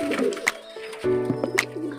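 Pigeons coo softly up close, a few low throaty warbles in quick succession, with light rustling and small clicks in between.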